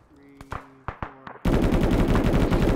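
A coordinated gun volley: several sharp separate shots ring out in quick sequence, then give way to a sustained, dense roar of continuous loud firing from multiple guns.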